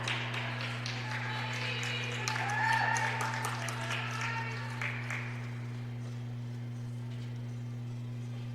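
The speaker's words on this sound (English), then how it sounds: "Falcons cheering on Falcons as we wrap up the toss here" Crowd of fans cheering and clapping at a college acrobatics and tumbling meet between Adrian and Concordia Wisconsin, a moderate swell for about five seconds that fades to a quiet room over a steady electrical hum.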